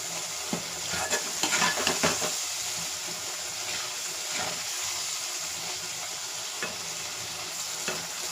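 Garlic cloves frying in sesame oil for a Tamil garlic curry, a steady soft hiss with scattered crackles and a few stirring knocks near the start.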